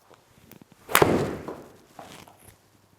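A single crisp golf shot struck with a 6 iron at a practice setup with a launch monitor, one sharp close crack that fades quickly, with faint rustles around it.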